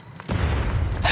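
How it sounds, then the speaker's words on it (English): An explosion in the video game Zenless Zone Zero: a sudden deep boom bursts in after a quiet moment and keeps rumbling loudly to the end, with a brief higher crack at the close. "There's a risk of explosions nearby."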